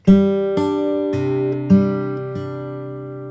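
A short sequence of single plucked guitar notes, five or so picks on strings 3, 2, 5, 3, 2 in an even rhythm, ringing close and clean.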